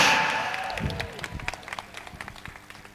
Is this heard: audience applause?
yes